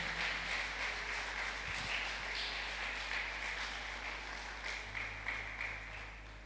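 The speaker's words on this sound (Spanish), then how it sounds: "Dale un aplauso al Señor." Faint, steady congregational applause in a church, a soft wash of many hands clapping at a distance, evenly sustained and gently fading toward the end over a low constant hum.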